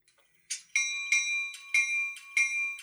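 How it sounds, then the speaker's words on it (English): The electronic air bell of an N scale EMD Tunnel Motor model locomotive in Southern Pacific livery rings in about six evenly spaced, clear metallic dings with bright ringing overtones, fairly quiet and alone. "Sounds good, that air bell."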